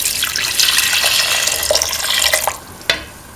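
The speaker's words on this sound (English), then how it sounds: "Now pour in 250 ml of coconut milk." Coconut milk pours into a cooking pot in a steady close liquid stream, splashing and gurgling, then thins out and ends with a few drips and a light clink near the end.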